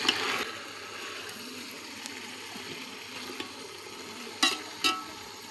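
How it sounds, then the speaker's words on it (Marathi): Vegetables and whole-spice tempering in oil cook on a wood-fired stove for rice, giving a steady crackling sizzle with a few sharp pops and spits near the end. "चुलीवरचा भात असल्यामुळे ना तेलाचा आणि फोडणीचा किती चुरचुरीत छान असा आवाज येत आहे"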